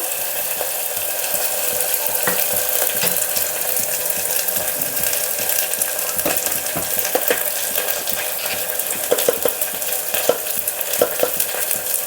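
Ginger garlic paste frying in oil in a pan for budamkaya moong dal, a constant loud sizzle with irregular spoon scrapes and clicks throughout, no talking.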